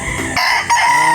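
A rooster from a breeder's flock, not an especially large bird, crows loudly and close by in one strong, harmonic call that shifts pitch partway through, with no voices over it.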